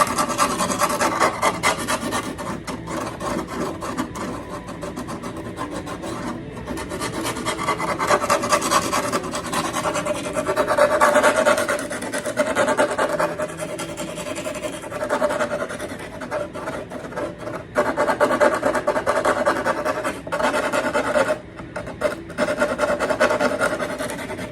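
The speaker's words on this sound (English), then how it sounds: "I'm going to do a little, fine touch-up sanding to make sure I get a good tight fit on those" Fine hand sanding on wooden pieces of a Takamine guitar during side-crack repair: a continuous dry raspy rubbing in steady back-and-forth strokes, close and fairly loud, with no talking.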